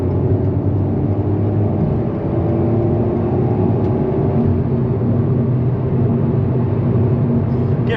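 An Alpine A110 sports car accelerating on a UK motorway gives a loud, steady roar of engine and road noise from inside the cabin, with no talking.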